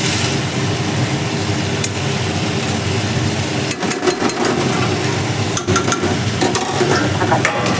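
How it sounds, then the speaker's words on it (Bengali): A kitchen chimney exhaust hood runs with a steady, loud broadband whoosh and low hum throughout, joined midway by scattered clatter and knocks from cooking at the stove. "চিমনিটাকে বন্ধ করি মাথা খাচ্ছে চিমনিটা"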